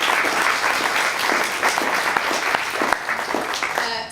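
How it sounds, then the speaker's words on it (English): Audience applause fills a hall at a talk on Civil War nurse Lucy Higgs Nichols, a steady crowd-wide clapping that holds strong and dense throughout, fading slightly at the end. "Yeah, they deserve a round of applause."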